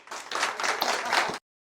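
A small audience claps and applauds at a live comedy show for about a second and a half, a quick patter of hands that stops abruptly, with no voices over it.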